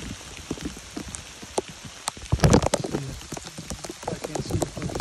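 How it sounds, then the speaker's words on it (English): Steady rain patters on the Appalachian Trail in early spring, a close, uneven spatter of drops hitting surfaces with scattered louder splashes, heard without talk. "But it's raining pretty steady."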